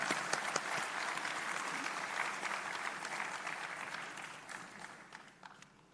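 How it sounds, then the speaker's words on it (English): Applause at a university convocation ceremony, a sustained wash of many hands clapping in a large hall, steady and fairly loud throughout before easing slightly toward the end. "A round of applause to Ms. Tarukshi Vijayasinghe."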